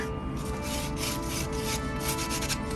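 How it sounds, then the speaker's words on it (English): Plastic hull parts of a Revell USS Arizona 1:426 scale model are sanded down by hand, making a steady, close, continuous rasping scrub with no pauses or talk. "So I'm going to actually sand them down."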